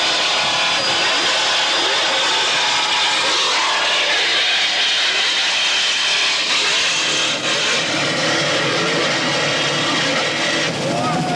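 Twin engines of a 41-foot Apache powerboat thunder at about 90 mph under rough throttling, a loud steady broadband roar with wind and spray noise that shifts in pitch midway, with a faint voice mixed in.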